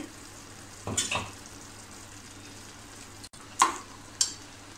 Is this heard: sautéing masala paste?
yes